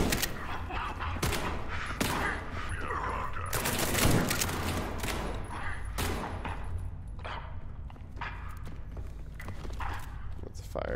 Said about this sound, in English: I was just getting shot at from somewhere.